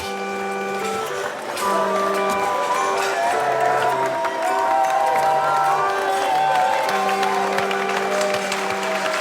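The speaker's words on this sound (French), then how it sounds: "et toute la salle applaudit" A packed Lyon brasserie dining room applauds a birthday celebration while a waiter plays a barrel organ, the sustained organ melody ringing over continuous clapping and crowd noise.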